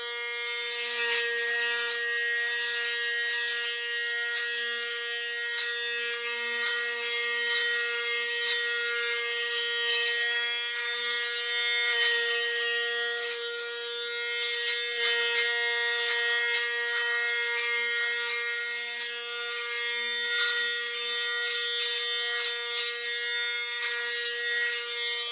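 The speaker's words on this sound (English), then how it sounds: "Now I will shave clean" A steady Panasonic Arc 6 electric shaver buzzes up close for a long stretch, its high mechanical whine shifting slightly as it moves over stubble.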